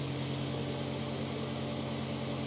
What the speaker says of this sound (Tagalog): Maingay yung exhaust.